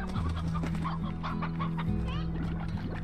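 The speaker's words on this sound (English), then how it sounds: "Chickens, hello." Chickens cluck steadily in the video game Slime Rancher, several birds close together over a continuous low hum of game music.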